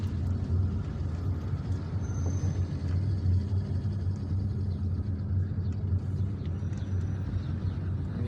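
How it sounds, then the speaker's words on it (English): Steady low rumble of car traffic heard from inside a vehicle driving through Algiers between Bachdjerrah and El Harrach, a continuous engine and road drone with faint higher noises above it and no talk. "Finding traffic in Bajara is normal, but finding it here in this area is a little bit unusual."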